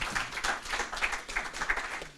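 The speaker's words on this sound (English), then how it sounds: "Round of applause." Audience applause at a judged presentation event, a steady patter of clapping hands running through the whole stretch without a break, moderately loud and fairly close.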